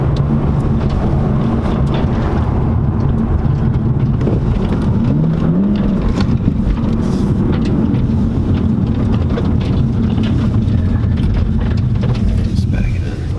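A 2015 BMW M235i engine hums steadily while the car is being driven slowly, with a low drone running throughout and voices talking over it.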